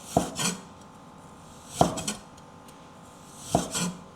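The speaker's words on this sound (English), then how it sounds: "Cut it into very thin slices to maximize the release of flavor." A knife cuts ginger into thin slices on a board, three separate crisp chopping strikes spaced about one and a half seconds apart, each with a short scraping tail, close and alone.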